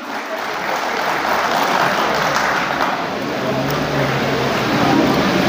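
An audience at a state journalists' convention in Nelamangala, Bengaluru claps together in sustained, dense applause that stays loud and even throughout, with a faint murmur underneath.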